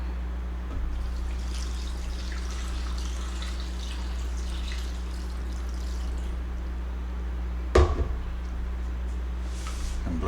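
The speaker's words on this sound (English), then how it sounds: "I'm gonna go ahead and just put some of my water." Water poured into a blender holding tomatillos, jalapeño and peppers, a steady close trickling pour over a low mains hum, with a brief clatter near the end and no talking.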